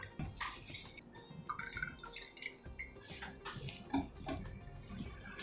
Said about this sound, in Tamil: இன்னொரு தடவை ஐஸ் வாட்டர் விட்டு இதை நல்லா மிக்ஸ் பண்ணி